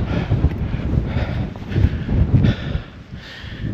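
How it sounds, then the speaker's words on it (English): Strong gusts of wind buffet the microphone on an exposed winter hilltop near Derwent Edge in the Peak District, a heavy, rumbling roar that swells and eases unevenly throughout, with no voices. "Let's get out of this wind."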